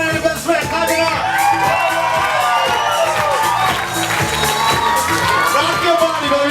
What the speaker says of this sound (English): Laura Rodriguez and Robert Green, maid of honor and the best man. Clap it up